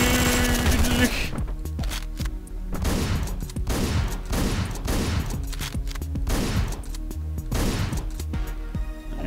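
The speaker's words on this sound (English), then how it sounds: "Got a friggin' Uzi here." Rapid Uzi submachine-gun bursts in the top-down shooter Hotline Miami, loud and repeated in steady rhythmic volleys over a driving game soundtrack, with someone talking over the shooting.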